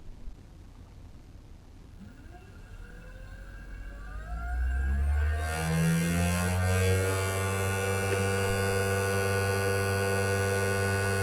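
Cheap 500W air-cooled CNC spindle screwed to a piece of wood, spinning up from a low hum to a steady loud whine with rising tones, running alone close by.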